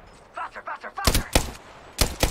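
Gunfire in the game Apex Legends, several loud sharp bursts of shots in quick succession near the end, preceded by brief talk.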